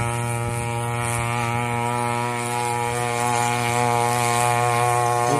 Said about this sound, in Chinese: 它这个飞机加速很猛